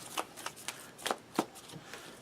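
Cards from the Thanos Rising board game are shuffled by hand, a run of quick papery riffles and taps close to the listener, fairly quiet, with no talking.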